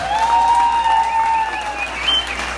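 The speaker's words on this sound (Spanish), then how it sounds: "¿No se escuchan esas palmas," Guests clap at a quinceañera party after a dance performance. The steady clapping sits under a long whistle-like tone that rises and falls.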